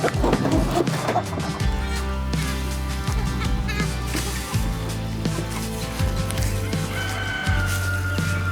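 Broiler chickens cluck and a rooster crows nearby, a busy flock with overlapping calls over a steady low rumble.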